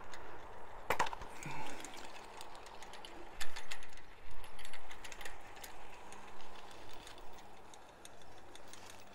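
A motorized bicycle-wheel gyroscope freewheels, its ratchet giving faint, irregular clicks over a low steady hum.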